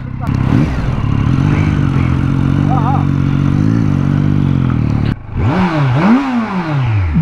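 A Kawasaki Z900 motorcycle rides on steady throttle, a loud, close, smooth engine drone that holds its pitch, then briefly drops before revving up and down again in rising and falling sweeps, with someone speaking over it.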